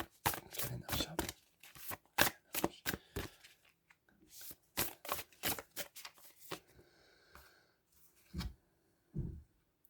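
Tarot cards being shuffled and drawn, a rapid series of crisp riffling bursts in irregular clusters, then a pause and a couple of softer slaps as cards are laid out, close and clear.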